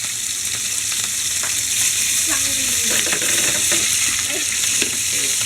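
Hot cooking oil spits and crackles hard in a frying pan, with sharp pops and spatters on top of a loud, constant sizzle close by.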